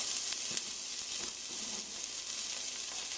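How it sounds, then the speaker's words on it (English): Garlic sizzling gently on low heat in a pan while being stirred for spinach rice, a continuous close frying hiss with light scrape accents. "Give that a quick stir, because I really don't want to burn the garlic."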